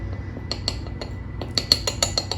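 A metal spoon clinks and taps against a container while scooping cocoa powder for a mug cake, a series of sharp, close, irregular ticks over quiet background.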